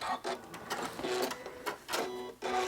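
A sewing machine stitches a quilt block, its busy mechanical whirr running steadily with short pauses and restarts, close up and without talk.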